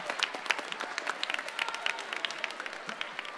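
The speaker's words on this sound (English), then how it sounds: "Big round of applause." A poetry recitation semifinal audience claps for the state finalists, with many distinct hand strikes standing out in a brisk, moderately faint round of applause.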